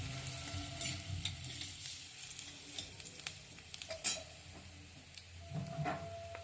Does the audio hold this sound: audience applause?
no